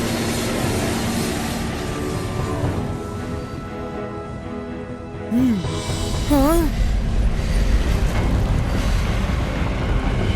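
A train rumbles steadily along the tracks with a continuous low roar, and a brief rising whistle-like squeal cuts through midway.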